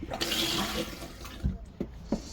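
A trailer toilet bowl refills with water after a gentle push of the flush pedal, giving a steady rushing wash under low pressure, followed by a few brief gurgling knocks as the flow settles.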